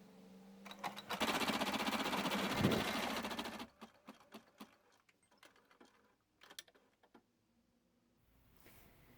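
A sewing machine runs steadily for a few seconds, stitching a small embroidery design onto a fabric case. Afterwards come softer handling clicks and rustles, with no talking.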